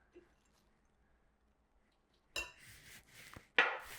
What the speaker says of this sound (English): Now add the raisins.